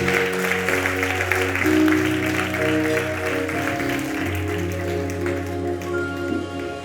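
Church congregation applauding and cheering for the Lord during a French sermon: a steady wash of clapping over sustained keyboard chords that continues throughout.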